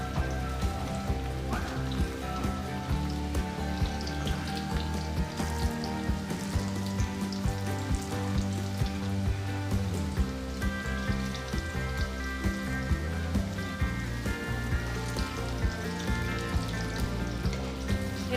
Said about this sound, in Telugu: ఫ్రై అవ్వనివ్వండి.